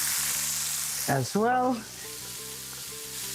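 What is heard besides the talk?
onion frying in a pan for spicy lobster linguine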